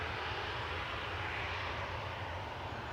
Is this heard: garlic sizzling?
no